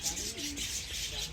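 Breeder pigeons cooing outdoors: low, soft, wavering coos set against steady wind and background hiss.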